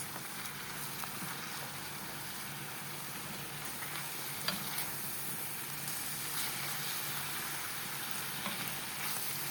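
Fried lagman noodles stir-fried with soy sauce in a pan, a steady broadband sizzle running throughout with occasional soft clinks and scrapes of stirring.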